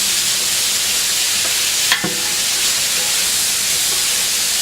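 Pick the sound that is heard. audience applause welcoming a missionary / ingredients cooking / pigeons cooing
ingredients cooking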